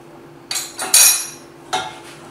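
Meat pieces being mixed with salt, black pepper and turmeric in a copper pot, heard as a few sharp metallic scrapes and clanks of a utensil against the metal, close and loud with quiet gaps.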